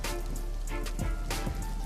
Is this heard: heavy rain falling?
yes